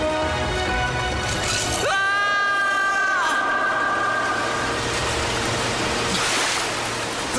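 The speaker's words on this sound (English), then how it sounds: "The river, it just disappears. It's a waterfall!" A cartoon river plunging over a waterfall gives a steady, loud rushing roar of water throughout, with a siren-like rising tonal sweep laid over the middle.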